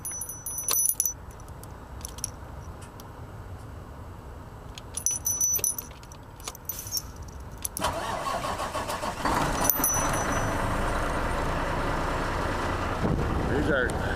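Pickup truck engine being cranked and started: keys jangle first, then the engine turns over and catches partway through, settling into a steady close idle that continues to the end.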